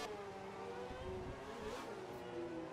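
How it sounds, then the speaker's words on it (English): A Formula 1 car's engine screams through a qualifying lap at Monza in F1 2012, a steady high whine with rising and shifting pitch as gears change, continuous and alone. "Let's go for a qualifying lap here at Monza"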